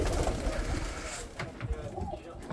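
An old kit pigeon hen coos softly nearby, low murmuring calls mixed in with a person talking.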